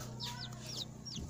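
A Joper chicken in a backyard coop gives a few quick, rising clucks close by, repeated in short bursts over a low steady background.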